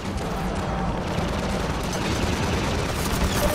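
A gunship in Half-Life rakes a courtyard with heavy fire, a loud, dense barrage of rapid shots and booming impacts that roars without letup from start to finish.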